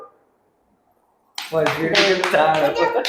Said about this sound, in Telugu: మామకి రాఖీ కట్టగానే అందరు క్లాప్స్ కొట్టాలి